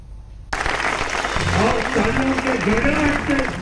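Members of parliament applaud the Prime Minister at a BJP parliamentary party meeting, a dense burst of clapping that breaks out suddenly and holds steady and loud, with voices mixed into the crowd.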